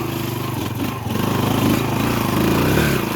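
A motorcycle engine drones steadily nearby, its pitch rising and swelling as it passes, with faint voices mixed in.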